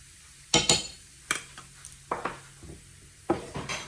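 A spoon scrapes and clinks against a pan, off the heat, as sweet paprika is stirred in, giving a few separate sharp strokes and taps with quiet gaps between.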